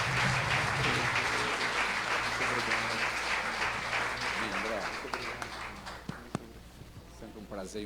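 A congregation claps in church to honour their bishop, a thick, sustained patter of many hands with low sustained tones and voices beneath it, thinning out toward the end.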